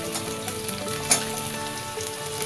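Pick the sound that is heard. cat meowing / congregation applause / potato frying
potato frying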